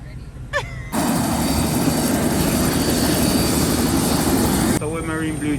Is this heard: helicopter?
yes